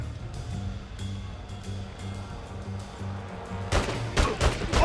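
Gunfire in The Godfather 2 video game in Cuba, with bursts of shots over a steady game soundtrack hum, growing into louder, denser volleys near the end.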